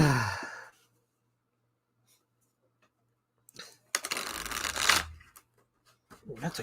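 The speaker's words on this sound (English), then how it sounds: "That's a good shuffle" A brief, crisp burst of card riffling near the mic, a few seconds of fluttering rustle after an opening sigh-like breath, then quiet shuffling sounds.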